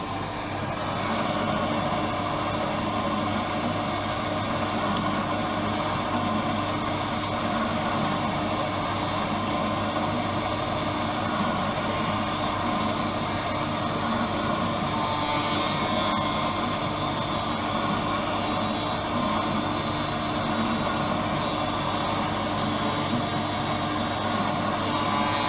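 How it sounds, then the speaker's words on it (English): Spinning blade of a lens edging machine cutting a bevel into the edge of an eyeglass lens, a steady, continuous whirring grind with a high whine, running unbroken at even loudness throughout. "a little arm is moved forward with a blade, a spinning blade. That is what's going to slice the edge of your lens to cut the bevel"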